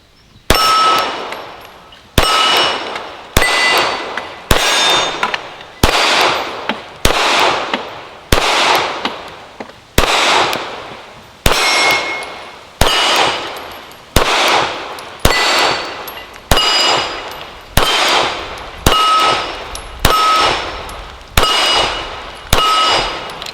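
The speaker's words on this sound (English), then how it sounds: "I'll be shooting them through this P226 this time," A SIG P226 pistol fires 9mm Blue Bullet rounds about eighteen times at a slow, even pace outdoors. Each shot is a loud, sharp crack with a short ringing tail, and no one speaks.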